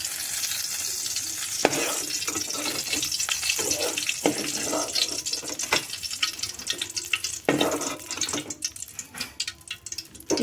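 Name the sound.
gongura leaves frying in oil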